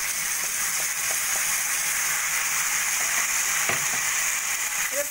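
Pre-fried pointed gourd sizzles in a pan with cumin powder, chili powder and a ground spice paste, a loud, steady frying hiss with a few soft clinks of a spoon against the pan.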